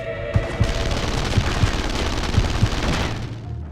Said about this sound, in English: I can't even tell who's shooting at me